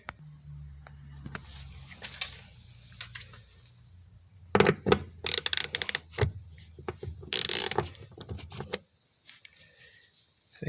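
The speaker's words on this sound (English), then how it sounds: "I'm gonna go ahead and unfasten these 4 bolts here." A ratchet wrench loosens four bolts holding a plate on a 2006 BMW 325i during fuel pressure regulator work: scattered clicks at first, then dense bursts of close ratcheting and metallic clatter in the middle, fading to quiet handling.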